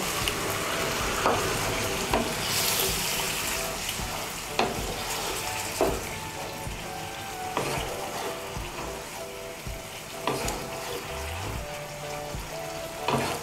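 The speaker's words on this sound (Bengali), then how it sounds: "আমি এর মধ্যে 1/2 কাপ গরম জল দিচ্ছি।" Mung dal with spinach cooking in a pot as half a cup of hot water is poured in and stirred, a steady sizzle and watery bubbling with occasional spoon knocks throughout.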